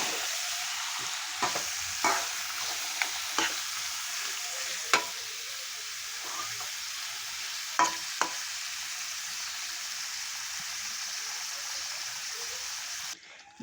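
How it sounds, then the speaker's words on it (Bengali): Chicken stomach and liver being stir-fried over low heat, with a steady soft sizzle broken by occasional sharp scrapes of a spatula against the pan, close and alone. "ঝিমা জালে এখন আমি কষিয়ে নেব খুব ভালো করে স্টমাক মেটে।"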